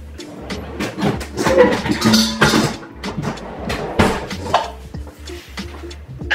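A knife small-dicing vegetables such as parsnips on a cutting board: rapid, uneven wooden chopping taps, close and fairly loud, continuing steadily throughout.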